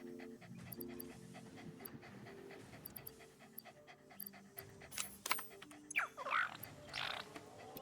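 The lizard doggo creature in the game Satisfactory pants rapidly and steadily, close by, with mechanical clicks and brief game effects layered over it.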